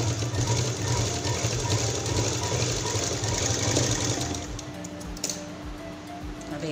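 Rapid mechanical chatter of a sewing machine stitching a fabric key-chain purse at home, a steady close rhythmic clatter that slows and stops near the end.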